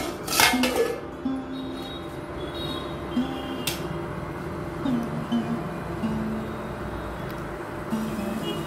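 A metal lid is set onto a pot of snake gourd and field beans cooking on a home stove, giving a few clinks and light metallic knocks near the start over a steady low background hum, followed by occasional faint clatters.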